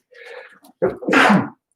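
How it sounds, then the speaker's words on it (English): A single close sneeze, a sharp burst preceded by a brief breathy intake, loud and isolated. "I've been sneezing all day."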